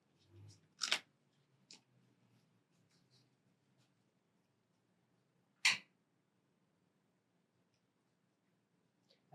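Deck of playing cards shuffled by hand indoors, giving a couple of short riffling bursts separated by quiet pauses, close and fairly soft.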